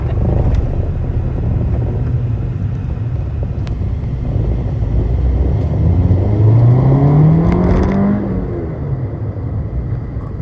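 The engine of a 1992 Honda Civic revs loudly and close by, its pitch climbing steadily as it swings into VTEC, then it drops back, with no talk.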